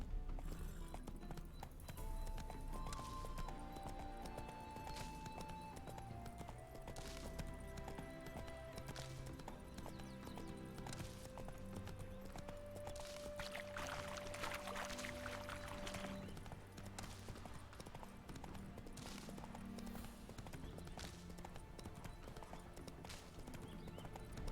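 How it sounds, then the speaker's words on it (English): Horse hooves clip-clopping steadily in the video game The Witcher 3, with a spooked horse neighing and whinnying over a continuous layer of background music and ambience. "Spooking my horse."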